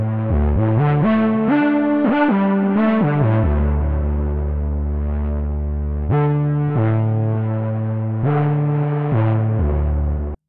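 Sustained synth chords run through Bitwig's Chorus+ effect in an ambient patch, with a wide, shimmering chorus on slowly shifting tones. The sound is loud and continuous with no voice.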